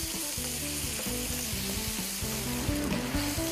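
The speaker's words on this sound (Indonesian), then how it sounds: "Kita masukkan kita punya kicap. Okey, kita didihkan sebentar." Soy sauce simmering in a pan gives a continuous, close, loud sizzle and bubbling crackle that holds steady throughout, with faint background music underneath and no talking.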